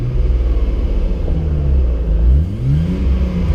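A car engine revs up under throttle and settles back down, a loud, close rumble whose pitch climbs and falls in a couple of swells, with no talking.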